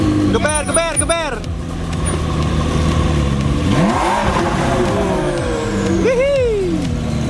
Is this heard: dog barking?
no